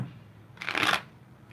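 Tarot cards being shuffled, one quick riffling burst of papery flutter lasting under half a second, close and clear against a quiet room.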